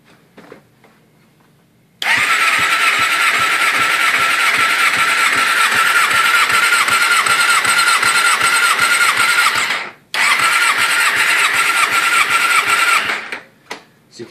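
A 2009 Suzuki GSX-600R motorcycle engine cranks over on the starter during a compression test, a loud rapid whirring chug that runs for several seconds, cuts out briefly, then resumes before stopping.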